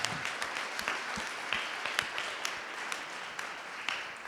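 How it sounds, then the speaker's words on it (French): An audience applauds at a French-language community event, a loud, dense spread of clapping with sharp individual claps standing out throughout and no one speaking. "vous pouvez vous donner une main d'applaudissement"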